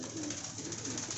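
Domestic pigeon cooing steadily and close up while being dipped and bathed by hand, a continuous low throaty coo with no talking over it.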